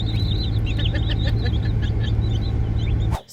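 Chickens and a turkey on a farm cluck and chatter in a busy flock, with steady overlapping calls over a loud low rumble that cuts off abruptly near the end.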